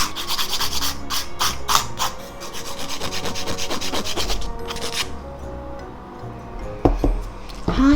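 Hand file rubbing across a sculpted acrylic nail to smooth its surface, a rapid series of close, scratchy back-and-forth strokes that pause briefly before a few final rasps.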